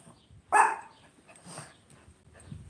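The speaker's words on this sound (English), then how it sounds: "I don't know what they're barking at." A single sharp dog bark rings out at moderate distance, followed by a fainter second bark and quiet background, with dogs barking at nobody outside.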